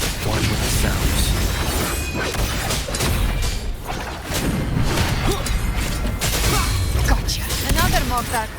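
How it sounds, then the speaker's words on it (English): Mortar fire in the Wuthering Waves video game: dense, loud booming blasts and crashing impacts in a continuous barrage, layered with mechanical clatter and game music, with a voice talking over it. "Another mortar thrown at us."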